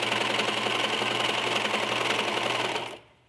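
Sewing machine stitching through three layers of fabric for a skirt waistband, a steady fast mechanical whir with rapid needle ticks running continuously, then stopping abruptly near the end.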